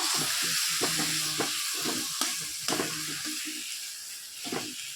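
Chalta sour curry with ground sesame paste, stirred in a frying pan: steady sizzling and hissing with repeated scrapes and knocks of the spatula against the pan, and no talking.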